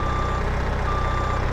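A John Deere telehandler backing up in Farming Simulator 22 on a Missouri farm, its reversing alarm giving steady repeated beeps over a constant low engine drone.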